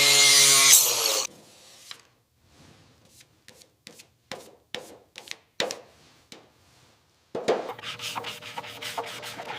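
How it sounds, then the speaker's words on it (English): Hand-sanding body filler patches on a 1960s Vespa scooter under restoration: a long loud abrasive rub, then a series of short, irregular scraping strokes with pauses, ending in another sustained stretch of sanding close by. "With steady strokes, the mechanic begins sanding the"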